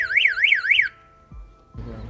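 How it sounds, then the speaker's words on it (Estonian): A rental car's alarm sounds nearby as a loud, rapidly warbling electronic siren for under a second, then cuts off, leaving a low hum and a couple of faint thumps. "siis aktiveerub koheselt alarm"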